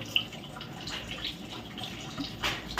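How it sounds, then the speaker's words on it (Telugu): A vessel of water poured into rice in a pot for cooking, giving a brief close splashing and gurgling flow with small drips at the end. "ఇంకొక చెంబు అయితే వాటర్ అయితే పోస్తున్నా"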